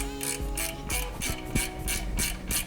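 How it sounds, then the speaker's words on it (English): Small ratchet working a bolt on a VW or Audi rear electronic brake caliper, giving a close, loud run of rhythmic clicking bursts at an even pace with no talk over it. "I'm going to use this small ratchet just to be able to snug it in and just remove it."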